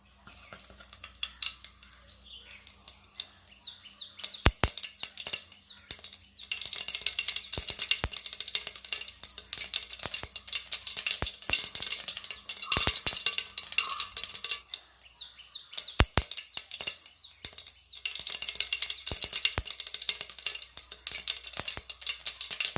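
Ongoing crackling and sharp pops of mustard seeds spluttering in hot oil, scattered loud bursts over a steady sizzle, no speech.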